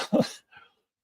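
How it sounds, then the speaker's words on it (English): A neighbor's dog gives a single loud bark nearby, followed by a fainter short yelp, with no talking. "So what you hear is my very annoying neighbor's dog that barks 24 hours a day"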